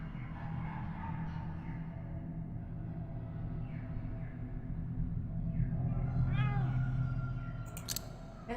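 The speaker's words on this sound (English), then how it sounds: "And with the kitty noise." Cat in the video game Pathologic 2 meowing a few times, short rising and falling cries over a low steady ambient rumble, growing slightly louder toward the end.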